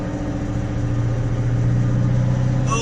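Scania V8 580 truck engine labouring in first gear while pulling a tractor uphill, a loud steady low drone with a strong harmonic hum, continuous and close, with no voices.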